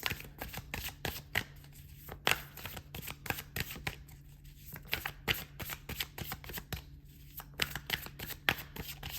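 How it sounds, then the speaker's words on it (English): Oracle cards are shuffled and pulled by hand in a quiet room, a steady close-up run of soft riffling flutters and snaps repeating for several seconds with no talking. "So let's pull some more cards."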